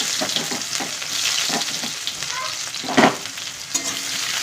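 Spice paste and chopped onion fry in a pan for a pabda fish curry, with a loud steady sizzle and intermittent stirring scrapes and clinks close by.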